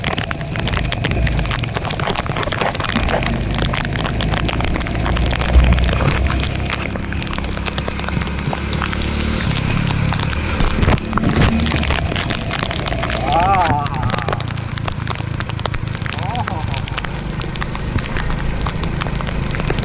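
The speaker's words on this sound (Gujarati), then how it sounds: "ફૂલ વરસાદ આવે છે ભાઈ ફૂલ વરસાદ" Heavy downpour recorded outdoors, a dense constant hiss of rain drumming on surfaces close by, with a voice talking over it and occasional bumps and rattles.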